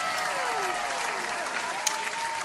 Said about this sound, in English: I just kicked off the wow and the applause at the same time